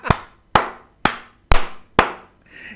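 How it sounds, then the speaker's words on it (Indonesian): Five sharp, close hand claps ring out one at a time at an even half-second pace, followed by a faint trailing sound. They are heard during Indonesian political commentary. "Kok tepuk tangan terus Bang?"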